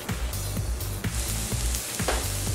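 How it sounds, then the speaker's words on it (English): Chopped onion with salt sizzles steadily in a skillet over medium heat, a close, continuous crackle broken by regular scraping stirs, with no talking. "we're going to cook the onion over medium heat for about 6 to 8 minutes, just so it starts to brown a little bit"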